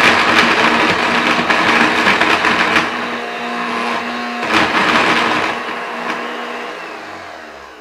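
A countertop blender whirs loudly for a few seconds, chopping ingredients with a drizzle of oil into a spreadable paste for pizza and bread, its motor pitch dipping and surging before winding down.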